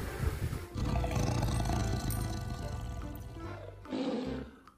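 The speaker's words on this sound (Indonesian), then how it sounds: "Ini harimau Sumatera." A roar from a toy Sumatran tiger, a loud, sustained growling tone lasting about three seconds, then a short second burst near the end.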